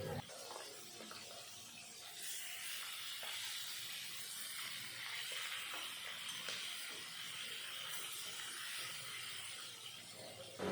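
Katla fish pieces fry steadily in hot oil in a pan, giving a constant close, dense sizzling hiss that holds at an even level throughout, with no talking.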